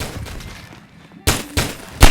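Pistol gunshots in a pistol-arena round of a video game: three sharp, loud bangs spaced irregularly over a couple of seconds, the last the strongest, following a stretch of quieter game noise.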